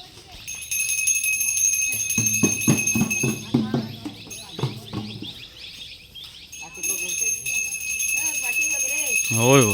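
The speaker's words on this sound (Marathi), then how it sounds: "घंटा तरी वाजवा." A hand bell rings at a 2024 Gauri immersion ritual in Telivadi, Kudal, Sindhudurg, in the Konkan region, its high sustained tone running through the clip beneath people talking and clustered percussive knocks.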